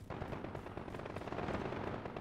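Gunfire in a Call of Duty Modern Warfare match, a dense, rapid burst of automatic shots rattling continuously at fairly low volume with no voices over it.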